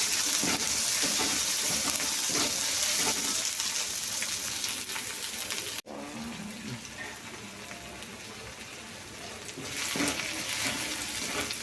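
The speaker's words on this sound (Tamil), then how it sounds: "இப்போது அரிஞ்ச தக்காளியையும் போட்டுடலாம், வதங்கட்டும்." Steady sizzling of chopped tomatoes frying in a pan, with occasional stirring scrapes and a brief break midway, loud and close throughout.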